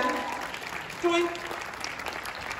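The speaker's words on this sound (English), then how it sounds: "Give him a round of applause." An audience at an anime convention opening ceremony in Los Angeles claps in a moderate, steady round of applause, with a brief tone and talk in the background.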